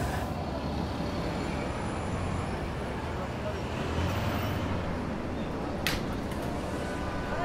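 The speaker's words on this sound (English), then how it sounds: "This is a World Trade Center bound E train." A World Trade Center bound New York subway E train runs steadily with a loud, continuous rumble and rail roar throughout, plus a brief high screech near the end.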